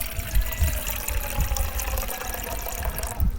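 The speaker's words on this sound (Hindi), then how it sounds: "1 कप चाय के लिए पानी ले लेती हूँ।" Water being poured into a cooking pot for one cup of tea, a steady splashing fill with low sloshing that runs continuously and fairly close in a home kitchen.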